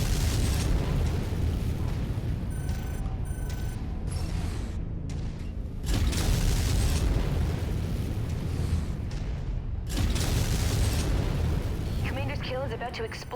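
Missile strikes and explosions in MechWarrior 5 during battle with an Archer mech, heavy booming blasts and rumble layered with mechanical creaks, continuous and loud, with a voice talking over it.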